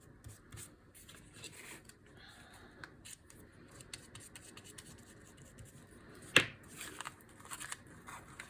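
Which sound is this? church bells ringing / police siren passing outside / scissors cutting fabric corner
scissors cutting fabric corner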